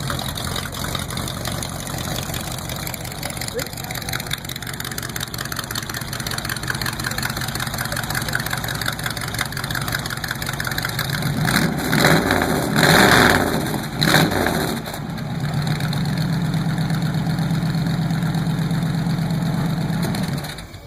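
A handmade custom coffin hot rod idles steadily and close, with a brief surge of revving midway before it settles back to a rumbling idle.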